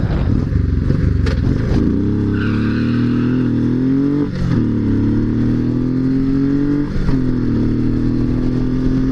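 A Honda VTX custom motorcycle pulls away from a traffic light, its engine roaring close and loud as it climbs through several gears, each rising pitch sweep broken by a short dip at the shift.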